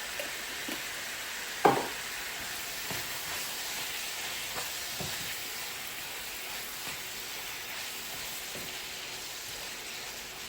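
Meat frying in oil in a pan, a steady soft sizzle and crackle that holds evenly throughout, with one brief clink near the start and no talking.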